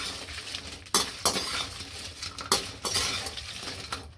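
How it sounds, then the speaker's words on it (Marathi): Fried cauliflower (gobi 65) is tossed with pepper powder in a dish, giving scraping, clinking stirs: sharp utensil knocks at a steady pace over a soft background hiss, close and fairly quiet, with no talking. "त्याच्यावर आपण ना थोडीशी मिरी पावडर टाकूया आणि छान मिक्स करून घेऊया।"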